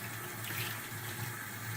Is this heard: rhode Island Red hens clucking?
no